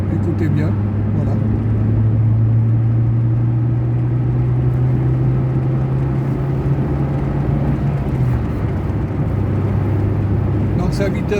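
A Fiat Seicento Sporting with a 1.1-litre 8-valve engine and a worn rear silencer runs with a steady low drone that holds, then drops near the end. Someone talks over it throughout.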